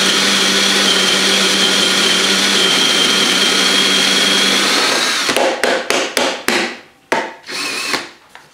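A grain mill loudly crushing brewing grain kernels in a continuous whirring grind, then stopping and starting in a series of short bursts before falling quiet, with no talking.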